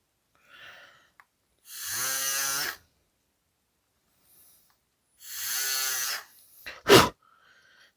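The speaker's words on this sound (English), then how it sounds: "FRP is actually easier to countersunk compared to the carbon ones." A countersink works a hole in the FRP plate of a Mini 4WD VZ chassis in two short, close buzzing bursts about a second each, with quiet gaps and a small click between them.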